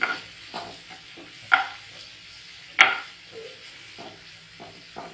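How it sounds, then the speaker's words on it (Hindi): Coriander powder roasting with spices in a pan for an Assamese parwal curry, heard as soft stirring scrapes with a few sharper utensil knocks against the pan over a low background. "1 टीस्पून धनिया पाउडर डाल देंगे। इससे इसको थोड़ा सा भूनेंगे इसे"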